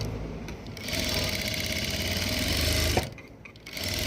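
A sewing machine stitching fabric runs in a fast steady whir for about two seconds, then stops abruptly with a click, pauses, and starts up again, close and loud with no talking.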